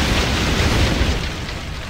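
A barrel explosion during a naval battle in Assassin's Creed 4: Black Flag, with a broad, loud blast rumbling at constant strength across the two seconds and easing slightly toward the end, with no voices.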